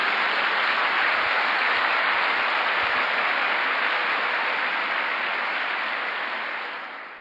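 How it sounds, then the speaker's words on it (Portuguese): A church congregation at a Sunday service applauding, a loud, continuous wash of clapping that holds steady and then fades slightly at the end. "Pode dar um aplauso ao Senhor Jesus."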